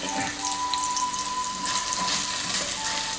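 Finely chopped onion fries in hot oil for Thalassery theghamuri, giving a steady, dense sizzle with a faint tonal hum in the background. The crackle is continuous and fairly close throughout.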